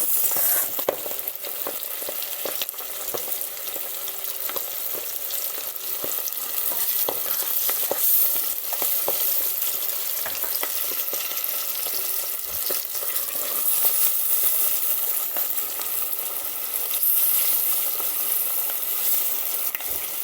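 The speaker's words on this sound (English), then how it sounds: "Now I'm putting my chicken in the oil to fry." Floured chicken pieces fry in hot oil in a pot, giving a steady, close crackling sizzle with scattered pops throughout, no voices heard.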